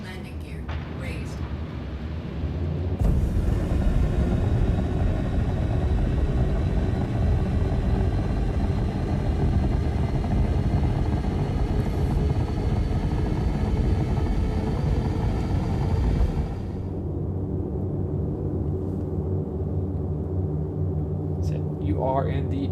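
Spaceship engine roaring steadily after takeoff in the game Star Citizen, a loud sustained rumble that swells at the start and drops to a lower hum near the end.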